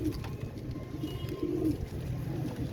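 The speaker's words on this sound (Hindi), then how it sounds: "दोस्तों ये रॉयल टेडी बच्चे हैं, चिक्स 13।" Royal Teddy pigeon chicks with low, soft cooing that rolls on continuously up close over a dense, murmuring background.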